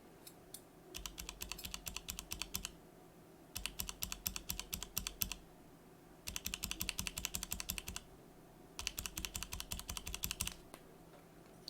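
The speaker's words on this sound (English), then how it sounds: "let's listen to the stock switch first." Stock Everglide Crystal Purple tactile switches are typed in four quick bursts of crisp, clacky keystrokes with short pauses between them, close and quiet, with a slight rattle and no voices.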